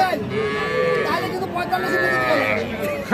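A young bull calf moos with a drawn-out, tonal call at a cattle sale, its voice steady across several seconds amid a busy market with people talking.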